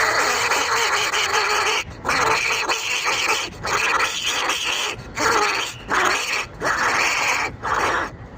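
Two cats fighting over milk are imitated by a human voice as loud, drawn-out yowls and snarls in repeated bursts, broken by brief pauses.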